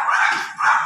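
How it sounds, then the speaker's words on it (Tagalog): Neighbourhood dogs bark in one brief, fairly loud burst with two pulses, heard close by and with no talk. "Ang dami kasing aso, kaya puro kahol ng aso maririnig"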